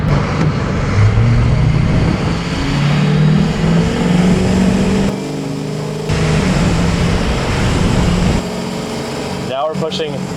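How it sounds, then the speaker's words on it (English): Ford 6.0L Powerstroke diesel truck driving and revving, its engine a loud, continuous rumble that rises and falls, drops away briefly in the middle and near the end, with people talking over it. "we're actually gonna go ahead and go for a little drive here, do a little bit of rips"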